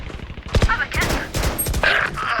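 Rapid bursts of gunfire crackle in a tactical shooter video game, dense overlapping shots across the whole moment at close range, with voices talking beneath them.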